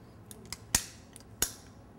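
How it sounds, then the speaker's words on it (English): Kuhn Rikon cookie press clicking as it presses out dough, two sharp close clicks with a few fainter ticks between them in a quiet room. "So one cookie, one click."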